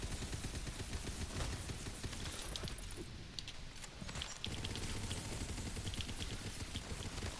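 SMG fire from the video game Tiny Tina's Wonderlands rattles in a dense, continuous burst of rapid shots with a brief lull midway, loud and alone without talk.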